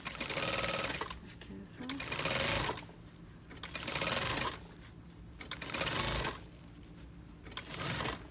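Sewing machine stitching a zipper onto a fabric bag, running in steady bursts of rapid close stitching with short pauses between, loud and near, with a voice speaking over it.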